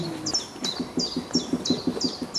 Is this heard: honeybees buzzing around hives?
no